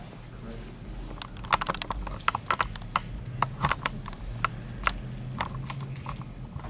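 Crisp keystrokes tap out on a computer keyboard in irregular clusters and single presses, close and fairly loud, while people talk quietly in the background.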